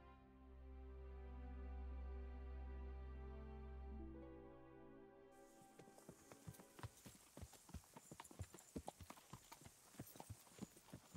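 In the video game Band of Bastards, a low droning tone gives way to rhythmic horse hoofbeats clip-clopping steadily, close and crisp, continuing at a walking pace.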